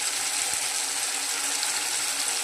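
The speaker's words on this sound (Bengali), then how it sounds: "এবার আমি জল দিয়ে দিচ্ছি এটার মধ্যে।" Water poured into a pan of fried spices and vegetables while making rohu fish curry, a steady close rushing pour that runs unbroken and moderately loud with no talk.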